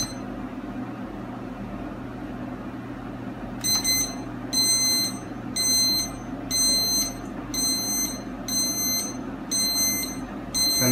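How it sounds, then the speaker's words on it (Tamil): Intruder alarm system beeping as it arms: after a few seconds of low background hum, a sharp, high electronic beep repeats about eight times in an even rhythm, each lasting under a second and sounding close and clear. "இந்த சவுண்ட் வந்து பீப் சவுண்ட் வந்து ஆமிங் அப்படின்னு சொல்கிறது."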